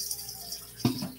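Water pours from a filter into a kitchen pan in a brief, soft splash that starts near the end, over a quiet room hiss.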